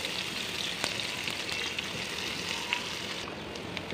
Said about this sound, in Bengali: পেঁয়াজটাকে আমি এখন হালকা বাদামি করে ভেজে নেব